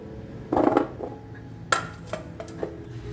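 Cut sweet potato pieces dropped into a kitchen vessel, a cluster of clattering knocks followed by several sparse lighter clinks against the pot, close and fairly quiet.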